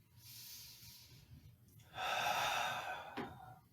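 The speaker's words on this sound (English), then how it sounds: "Take nice long deep breaths." Slow deep breathing during a yoga session, a soft airy inhale followed after a pause by a louder, longer exhale with a brief nasal snort at its end, close and quiet.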